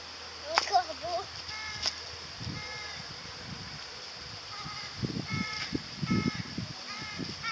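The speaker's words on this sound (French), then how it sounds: "À ton avis, c'est quoi qui fait le bruit? Un corbeau." Crows caw in short repeated bursts at a distance, with people talking softly underneath and some scattered background noise.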